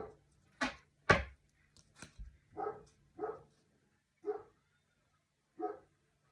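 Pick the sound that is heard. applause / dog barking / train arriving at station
dog barking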